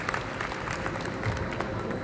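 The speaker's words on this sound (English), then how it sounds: "Let's give a round of applause" Audience applause at the inaugural session of an international environment sustainability conference in Goa, many hands clapping steadily at a moderate distance, fairly soft, with faint crowd murmur underneath.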